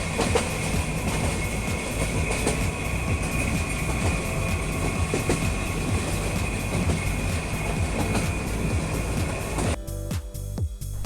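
A train from Chittagong to Sylhet rumbles steadily along the rails with a constant rattling roar and faint clicking, heard from inside, before the noise briefly drops away.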